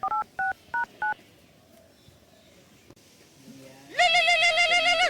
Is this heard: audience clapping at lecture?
no